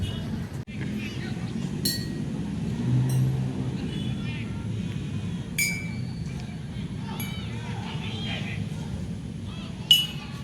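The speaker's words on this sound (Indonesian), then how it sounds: "Jika volume airnya semakin banyak di dalam suatu botol, maka frekuensi yang dihasilkan ketika dipukul akan semakin rendah" Glass bottles filled with different amounts of water struck one at a time, giving scattered short clinks and pings spread over about ten seconds, heard under continuous speaking.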